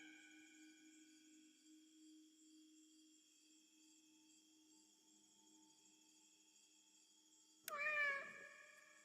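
A cat meows once near the end in the video game Indigo Park, a short clear cry rising over a quiet electronic hum and tones that fill the rest of the stretch.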